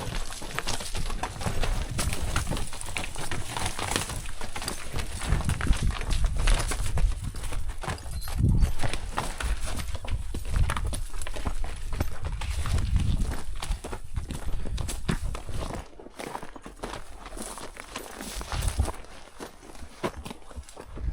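Horses walk a rocky mountain trail, their hooves clip-clopping in a steady, uneven rhythm close by over rustling and wind-like noise, with no talking.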